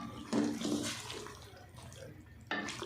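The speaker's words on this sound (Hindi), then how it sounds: "और आधा कप जितना पानी मैं इसमें ऐड कर रही हूँ," Water is poured into a pot of potato and eggplant curry, a continuous splashing pour that eases off midway and then surges again briefly.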